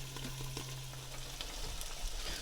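An egg sizzles steadily in a hot pan, a soft continuous crackle with small pops throughout, fairly quiet and alone without any voices.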